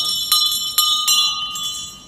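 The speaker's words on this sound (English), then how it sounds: "That's the bell again." A town crier's brass hand bell rings four times at an uneven pace. Each strike is bright and close, and its metallic tone hangs on between the swings.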